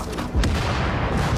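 Heavy turret gunfire in The Division during a Russian Consulate mission, with a loud booming shot and continuing rumbling blasts over a dense, noisy game mix.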